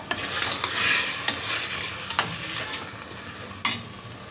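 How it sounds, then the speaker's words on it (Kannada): Ground pulao masala paste fries in a little oil, giving a steady close hiss and sizzle broken by several sharp scraping strokes of a stirring spoon against the pan. "ಸ್ವಲ್ಪ ಎಣ್ಣೆಲಿ ಅದು ಫ್ರೈ ಆಗಲಿ"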